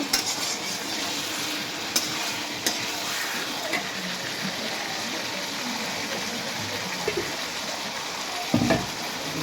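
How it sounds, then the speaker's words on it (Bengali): Bottle gourd curry sautés in a pan with a steady sizzle and frequent scraping stirs, a few sharper clinks of the utensil against the pan standing out. "দেখুন কত সুন্দরভাবে কষাচ্ছি তরকারিটা।"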